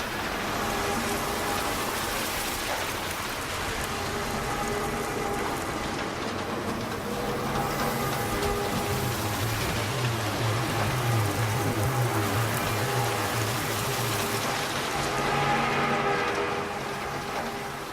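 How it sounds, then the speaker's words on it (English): Video game ambience of fire sprinkler water drops splashing onto ship surfaces, heard as a steady, dense patter and hiss that stays even and moderately quiet throughout with no voices. "the sound of the water drops splashing and hitting other surfaces."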